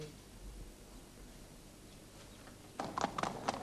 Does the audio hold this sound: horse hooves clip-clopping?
yes